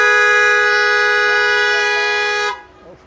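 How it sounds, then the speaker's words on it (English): A long, loud, sustained car horn blares close by in a traffic jam for a couple of seconds, then cuts off, leaving faint traffic noise behind. "Of course, honking the horn does not help."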